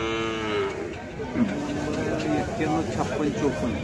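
A Khillar bull lowing in deep drawn-out moos amid a busy cattle market in Sangola, with people chattering nearby throughout.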